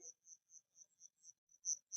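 Crickets caught in the wild in Laos make a steady series of clear, close chirps in a regular rhythm, with the last two chirps louder.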